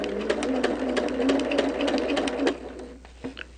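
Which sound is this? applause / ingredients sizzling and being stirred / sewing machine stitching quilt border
sewing machine stitching quilt border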